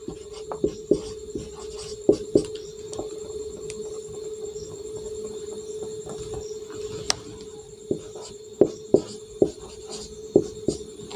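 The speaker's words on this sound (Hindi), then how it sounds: "देखिए लिख लेता हूँ" A hand writes colour names on paper while working a dice problem, giving quiet scratchy pen strokes with small taps in an irregular rhythm, close and alone.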